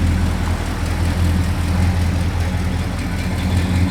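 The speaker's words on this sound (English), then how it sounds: "Got an exhaust tick." A 1967 Plymouth Satellite idles after a cold start, loping rough with a steady exhaust tick, loud and close, running alone without talk.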